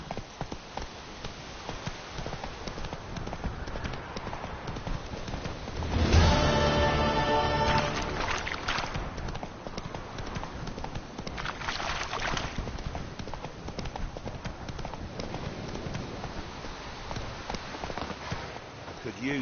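Roach the horse gallops in The Witcher 3 with steady, rapid hoofbeats at close range, joined by a brief burst of harness or rider noise partway through.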